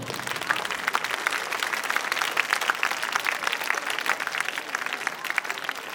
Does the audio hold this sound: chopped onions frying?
no